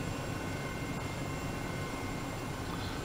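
An EC 135 helicopter in Microsoft Flight Simulator 2020 gives a steady, unbroken rotor and turbine drone that stays loud and even throughout, with no one talking.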